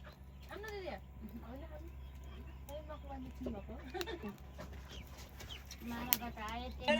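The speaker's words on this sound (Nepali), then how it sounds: "उर्मिलाले क्या अघि ए कुखुरा देखाइदिएको" Chickens cluck and squawk nearby in short, scattered calls over a steady low hum, with voices talking in the background.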